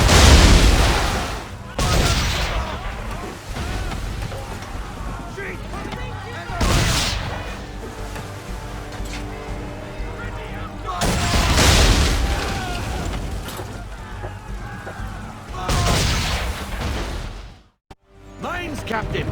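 Naval battle in Assassin's Creed III with heavy cannon fire: four or five deep, booming blasts land at intervals. Rumble and clatter fill the gaps between them, and voices can be heard.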